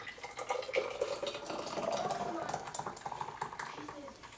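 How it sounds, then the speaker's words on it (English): Hot juice jelly pours from a pot into glass jars, a continuous liquid stream with light clinks of metal and glass, moderately close and fairly quiet. "We're just going to start pouring."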